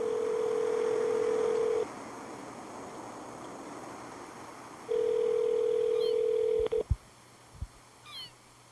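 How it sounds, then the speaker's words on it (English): A telephone gives two steady bursts of dial tone, then a few faint beeps and clicks as a call is placed, over a quiet background of low hum. "Am I calling the right number?"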